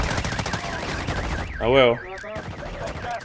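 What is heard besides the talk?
gunfire in the video game Warzone Mobile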